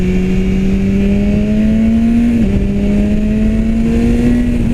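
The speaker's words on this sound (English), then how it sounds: "Inline 4 has that more racy high-end sound" 2016 BMW S1000R with its inline-four engine, a loud, close, racy high-pitched drone holding steady with a brief dip and rise in pitch as the throttle shifts, alone without talk.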